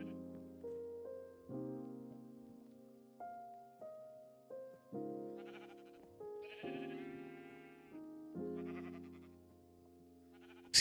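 Sheep bleating in Minecraft, a chain of drawn-out, wavering bleats one after another, clear and close with nothing else behind them.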